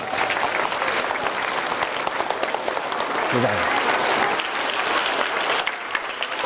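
Loud, dense applause fills an elementary school gathering, a steady roar of many hands clapping together that carries on for several seconds before tapering slightly, with a voice briefly speaking over it.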